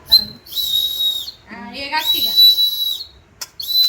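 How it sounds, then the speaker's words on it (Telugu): A toy whistle on a children's rakhi is blown in several loud, shrill bursts of a steady high tone at close range. A voice briefly breaks in between the blasts. "విజిల్ కూడా"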